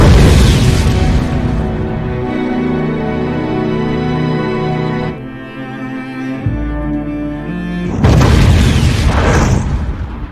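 Landmine detonating in a vineyard in a film scene, a very loud booming blast that rumbles and fades over several seconds before a second heavy burst erupts near the end.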